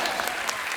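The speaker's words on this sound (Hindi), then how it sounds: "जोरदार ताली" Audience applause on a Hindi comedy TV show: a dense, steady burst of many hands clapping at close range, filling the whole brief moment with no voices on top.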